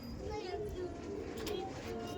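Male pigeons cooing at a loft as they are released, soft repeated coos over a mild background, with someone talking throughout.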